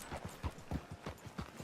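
Horse hooves clip-clop at a steady walking rhythm in the Red Dead Redemption 2 video game, in a small town with a post office and train station, close and distinct over a faint background.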